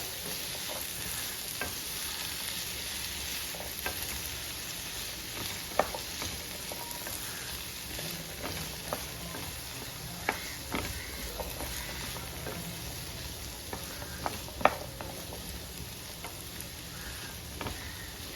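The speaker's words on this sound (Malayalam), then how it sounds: "എല്ലാം ചേർത്ത് നന്നായിട്ടൊന്ന് ഇളക്കുക" Vegetables for a Kerala-style kurma stirred in a frying pan, with a steady low sizzle and scattered scraping and tapping clicks of the spoon against the pan, close and moderately quiet, with no talking.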